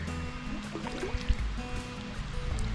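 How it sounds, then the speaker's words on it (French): Soft, continuous rushing of a waterfall in the distance, heard from a kayak on the Bienne river, a gentle steady wash with faint trickling and a few light knocks over it. "Et là, on commence à entendre la cascade"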